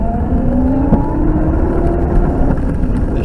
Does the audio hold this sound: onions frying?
no